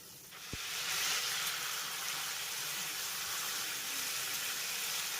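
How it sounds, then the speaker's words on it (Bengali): A spice paste loosened with bowl-rinse water cooks over a medium flame, giving a continuous close hiss and sizzle after a sharp tap at the start, with no talking. "মিডিয়াম ফ্লেমে এই মশলাটাকে এবার আমি দুই থেকে তিন মিনিটের মতো কষিয়ে নেব"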